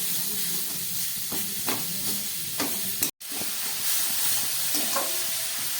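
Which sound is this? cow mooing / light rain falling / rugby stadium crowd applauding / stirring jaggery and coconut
stirring jaggery and coconut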